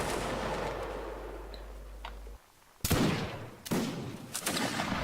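Musket volleys in Mount and Blade Napoleonic Wars crack out as several sharp, loud bursts of massed shots after a brief lull, over a rumbling battlefield background.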